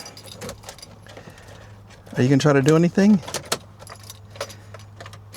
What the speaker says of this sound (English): Old school keys.